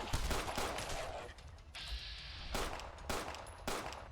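Bursts of gunfire crack through a Fallout 4 battle, with rapid automatic volleys broken by brief gaps and a quieter stretch in the middle.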